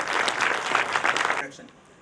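Audience clapping at a book talk as the poet Vinod Joshi is called to the stage, a brief dense burst that cuts off sharply and leaves a quiet tail.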